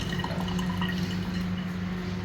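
Filtered tap water trickling and dripping into a container just before the household supply cuts off, a soft steady splashing flow close by, with no voices.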